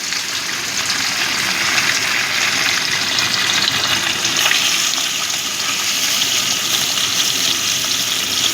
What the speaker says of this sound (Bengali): তেলটা গরম হয়ে গেছে, এবার আমি আমুদি মাছগুলোকে একটু এপাশ ওপাশ করে নেব।